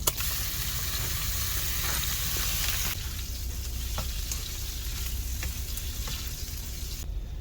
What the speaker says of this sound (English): I'm going to cook the shrimp in the bacon grease